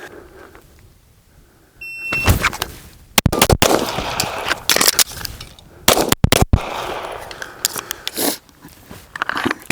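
Springfield Echelon compensated pistol firing sharp, loud shots in quick bursts, with a pause and mechanical clicks of a magazine reload and slide release between strings of fire, outdoors on a range.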